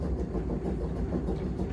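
An air compressor for a trolley car's air brakes, at a trolley museum, runs with a steady low mechanical chugging and throbbing, close and continuous throughout.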